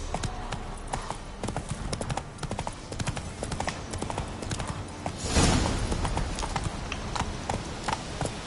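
Roach the horse gallops in The Witcher, hooves pounding out a quick, steady clip-clop rhythm throughout, with a brief surge of rushing noise partway through.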